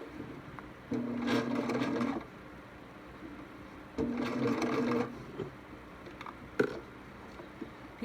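A sewing machine runs in two bursts of about a second each, a close steady whirring stitch, separated by quiet pauses with a small clunk afterward.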